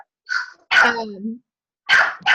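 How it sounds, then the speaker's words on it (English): A dog barks several times in short, loud bursts during an online training call, the barks close and sharp with brief gaps between them. "Somebody's dog is barking."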